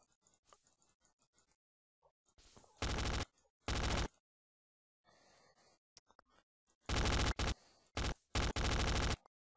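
Rapid bursts of MP5 submachine gun fire from an FPS Creator shooter game come in several loud, clipped volleys separated by quiet gaps, with low mumbling between them.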